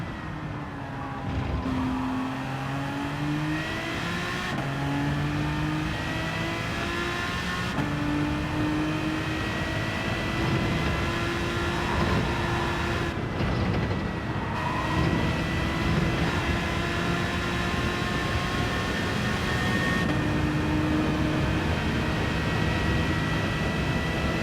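Race car engine in a racing video game, a steady droning whine that dips and climbs again as the throttle lifts and reopens, heard continuously with no talk.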